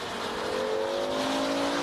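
BMW M5 E60 with its 5-litre V10 engine running hard, a loud, rising tonal howl as it revs up, heard close and alone with no voices.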